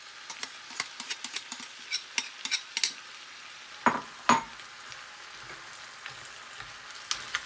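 Tomatoes and cilantro are stirred into a Moroccan beef tajine, giving soft scraping and clinking taps at an irregular pace, with two louder knocks midway, all close and fairly quiet.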